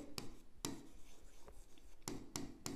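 Pen or marker writing on a board or paper during an accounts lesson, quiet close scratchy strokes arriving in short separated bursts, with no voices.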